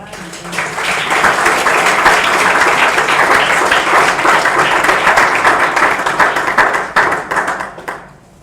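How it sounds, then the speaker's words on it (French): Church congregation at a Sunday service in Treichville applauding and cheering, dense sustained clapping mixed with shouts that holds steady for about seven seconds before thinning out and fading at the end. "Si vous êtes d'accord avec moi, acclamez le Seigneur."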